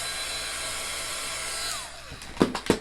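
A hair dryer blows over chalk paste on a board, a steady whirring drone that winds down near the end, followed by a few sharp clicks or knocks.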